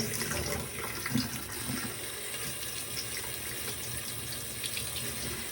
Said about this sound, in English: You're gonna put it under water and wash it as you go